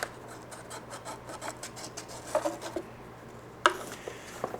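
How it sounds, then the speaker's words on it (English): Small strokes of sandpaper rasp against the push rod tubes of a SIG Colt model aircraft engine, a quiet, close scratching rhythm ending with a sharper tap. "I want to sand a little bit on these, the push rod tubes, just so that the glue will stick to them."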